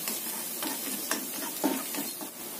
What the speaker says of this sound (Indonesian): Tumis sampai tercium bau enak ya dari bawang putihnya, atau agak coklatan bawang putihnya